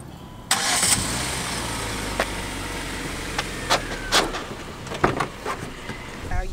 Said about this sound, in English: You let go of the clutch way too fast. First gear. That's a stall out.